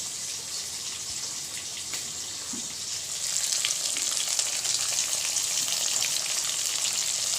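Katla fish fry in oil in a wok, giving a steady hiss that grows louder and denser partway through and then holds a bright continuous crackle with no voices.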